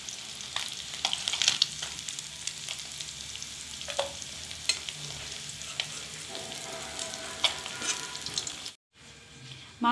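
Barilius (boroli) fish frying in hot oil in a kadai: a loud, continuous close sizzle with occasional scraping stirs, ending abruptly near the close.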